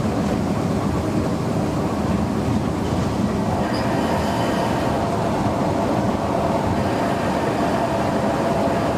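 Class 37 diesel locomotive 37250 applies power while climbing out of Bedale at about 20 mph on the Wensleydale Railway, with a steady loud engine roar and rumbling wagons throughout, no talk.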